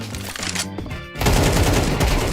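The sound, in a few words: AK rifle gunfire in Counter-Strike video game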